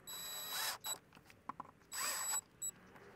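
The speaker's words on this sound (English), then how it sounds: "get our screws back in place, and now we'll tighten those down" Power driver tightening screws back into the intake of an ND Mazda Miata (2016-2025) after mass airflow sensor service, heard as two loud, half-second whirring bursts separated by faint clicks and handling noises.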